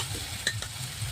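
Semolina batter sizzles in a little oil in a wok, a close, steady frying hiss with a light scrape or tap near the middle.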